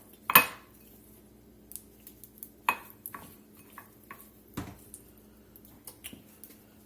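Shrimp are tossed with blackening redfish seasoning in a bowl, giving quiet, sporadic clinks and taps of a utensil against the dish with soft shuffling between them.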